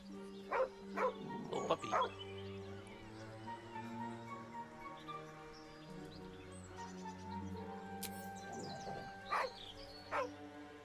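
A dog, encountered in a game featuring gnolls, gives several sharp yipping barks in short clusters near the start and again near the end, over a soft sustained musical background.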